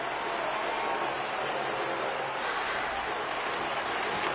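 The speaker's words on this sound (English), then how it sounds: "the crowd's on their feet, saluting the team after a hard-fought effort this evening" A hockey arena crowd in the NHL 25 video game applauds and cheers at the end of a game, a dense, steady roar of clapping and crowd noise that holds level throughout.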